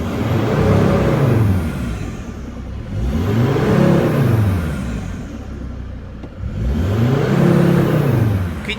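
Mercedes Sprinter van engine revved repeatedly during a turbo actuator test, three swelling revs that rise and fall back to idle, nearby and loud, with no talking.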